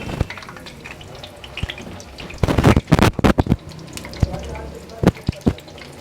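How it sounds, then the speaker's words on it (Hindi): Potato and chicken tikki kebabs fry in oil over medium heat while being turned. A close, crackling sizzle carries sharp clatters and splashy bursts that peak in the middle, and no words are spoken. "ये टिक्कियाँ मैंने डाल दी हैं फ्राई होने के लिए।"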